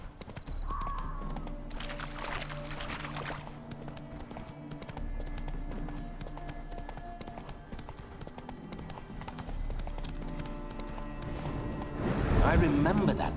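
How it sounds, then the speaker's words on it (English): Galloping hooves of the horse Roach in The Witcher 3: Wild Hunt pound in a steady, fast clip-clop rhythm, fairly close, under background game music and a man's speech, growing louder near the end. "Spooking my horse."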